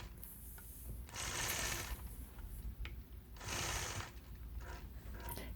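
A 4-in-1 sewing machine quilting straight stitch lines on a star quilt block, running in two loud rapid bursts with quieter mechanical clicking and shuffling between them.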